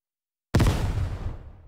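A frag grenade goes off in the tactical shooter Ground Branch as one loud, close blast that rolls out in a long rumbling decay over about a second, with no talking.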